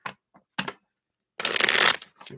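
A few quick riffles of playing cards being shuffled, short bursts followed by a longer, louder riffle, close up with no talking.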